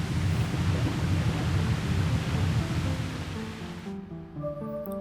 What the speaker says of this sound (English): will cause some water to come through.